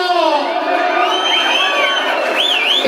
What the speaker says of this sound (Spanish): ¡Aplauso a mi marido!